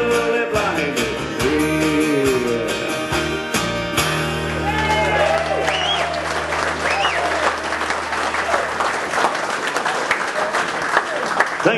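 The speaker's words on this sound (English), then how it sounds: "Give them a big hand." Audience applause for the winners at a comedy show: loud, sustained clapping from a crowd with a few shouts, while a voice and a musical sting sound over the start.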